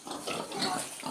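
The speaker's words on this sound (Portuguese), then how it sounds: "Vocês acharam esse porco aqui grande?" A large pig grunts close by in a continuous run of rough, snorting grunts with no talk over them.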